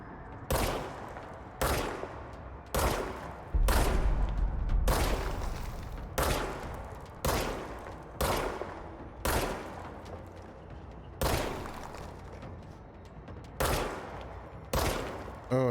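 Shooting in the game Control: a steady series of about a dozen loud, sharp gunshots, each a heavy crack with a short decaying tail, fired roughly once a second and close up.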